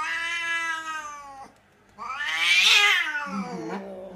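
A cat yowls in long, loud, drawn-out wails, one rising cry, a brief pause, then a second louder caterwaul that swells and trails off.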